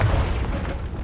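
A Confringo fire spell explodes in the video game Hogwarts Legacy, a loud booming blast with a low rumbling tail that fills the short moment.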